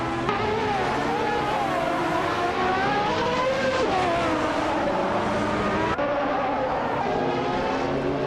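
Race cars battle wheel to wheel, their engines whining loudly and steadily, pitch rising and falling as they jostle for position in a continuous, close roar.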